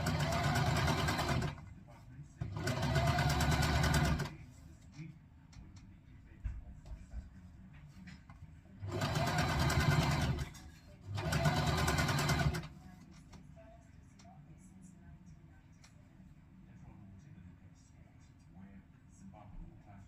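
A sewing machine stitches a skirt seam in two pairs of loud mechanical bursts, each a couple of seconds long, with quiet pauses between them and near-silence at the end.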